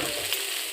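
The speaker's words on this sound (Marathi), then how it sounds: "आता आपण ही भाजी याच्यात टाकून घेऊ, चांगली हलवून घेऊ, अशी मिक्स करून घेऊ" Vegetables with onion tossed and stirred in a hot frying pan, a short close sizzle with a scrape of the spoon at the end and no talking.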